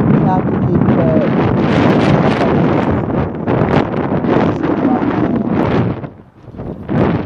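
Strong wind buffets the microphone outdoors, a loud, continuous roar with gusts that dip briefly near the end.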